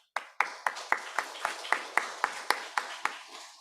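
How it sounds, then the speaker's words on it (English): Scattered applause for a speaker at a robotics workshop: about a dozen distinct, evenly spaced sharp claps, fairly close and isolated, tapering off at the end. "Let's give him a round of applause."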